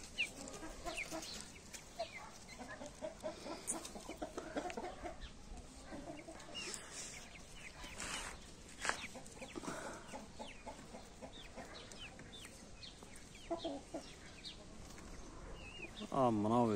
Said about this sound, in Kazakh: Мына жақта қораз ожа